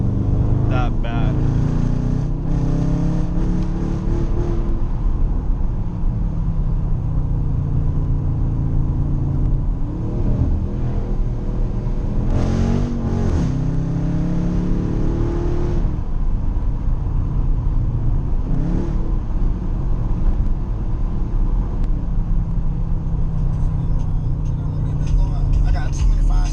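A loud Dodge Charger drives along backroads, its engine producing a continuous deep rumble heard from inside the car, with the revs rising and falling through several pulls while a person talks over it.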